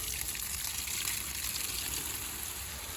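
Water poured onto a compost heap, a steady, hissing gush of liquid running continuously for a few seconds, close and moderately loud, with no talk.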